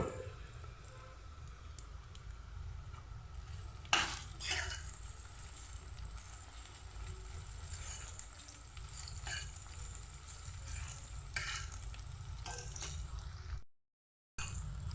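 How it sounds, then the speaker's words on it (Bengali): Crushed ginger frying with softened onion in a pan makes a steady, close sizzle broken by several sharp stirring clatters, continuing without talk until a brief dropout near the end. "এখন আমি থেতো করা আদাটা দিয়ে দিচ্ছি এটা আমি এটার সাথে ভেজে নেব"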